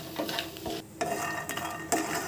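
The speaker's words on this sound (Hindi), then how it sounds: "मैं यहाँ पे मखाना डाल रही हूँ, मैं इसको अच्छा ब्राउन होने तक भून लूँगी।" Makhana (fox nuts) frying in ghee make a soft sizzle under repeated stirring, with sharp scrapes and knocks of a utensil against the pan.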